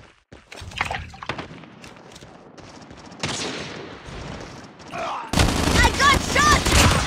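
Gunfire in Call of Duty multiplayer: scattered single shots and short bursts, then a loud sustained stretch of rapid automatic fire near the end, with a voice speaking over part of it.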